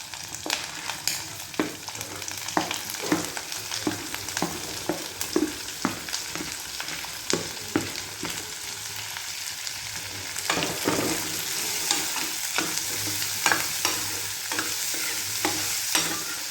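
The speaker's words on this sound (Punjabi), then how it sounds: "ਪਿਆਜ਼ਾਂ ਨੂੰ ਆਪਾਂ ਚੰਗੀ ਤਰ੍ਹਾਂ ਭੁੰਨ ਲਾਂਗੇ ਐਨ ਬਰਾਊਨ ਹੋਣ ਤੱਕ" Onions frying in a pan for Punjabi-style rajma, a constant close sizzle with frequent rhythmic scrapes and clicks of a spoon stirring, growing slightly louder and denser toward the end.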